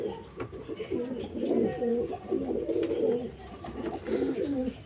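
Pet pigeons in a loft coo in soft, repeated throaty phrases, several birds overlapping at close range against a quiet background.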